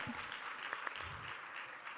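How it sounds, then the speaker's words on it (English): Steady, dense applause from a crowd, moderately loud and continuous throughout. "A round of applause."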